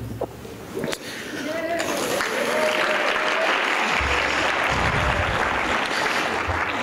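Audience applause fills a hall at a welcome for a college speaker event, beginning after a brief moment and building into steady, dense clapping that holds loud and continuous to the end.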